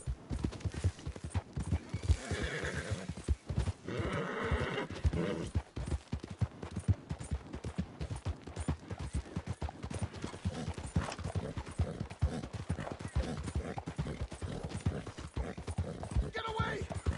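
A horse gallops in the Red Dead Redemption 2 video game, with rapid rhythmic hoofbeats throughout and brief whinnies, while a voice speaks over the action.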